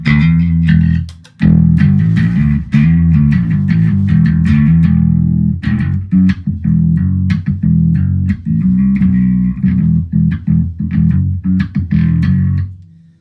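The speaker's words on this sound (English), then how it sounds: "that was overdrive that you just heard" Bass guitar played through a Blackstar Unity bass amp with the overdrive voicing engaged, giving a loud, continuous gritty low-end tone with plucked notes and short pauses, no talking.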